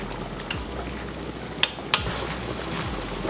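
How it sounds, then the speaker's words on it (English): Garlic frying in a hot pan, a low steady sizzle with two brief sharp clicks from a utensil, close by and with no talk. "We're really only going to need to cook this garlic for probably like 30 seconds to a minute."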